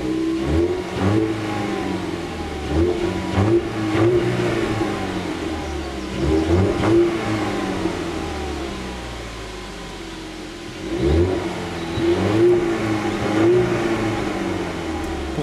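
A car engine revving through its exhaust, close and loud, rising and falling in repeated throttle blips with a steady idle rumble between them and no talking.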